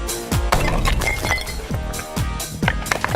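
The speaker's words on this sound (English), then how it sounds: "what about smashing them with a sledgehammer?" Safety glasses are smashed with a sledgehammer in a series of loud, close, heavy impacts. Each strike brings cracking, clinking and scraping of material, repeated about half a dozen times.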